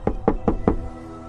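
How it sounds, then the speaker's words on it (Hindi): Someone knocks lightly on the door of an old mansion: four evenly spaced, soft wooden raps in quick succession, close and alone, followed by quiet. "हवेली के दरवाजे पर हल्की सी खटखटाहट सुनाई दी"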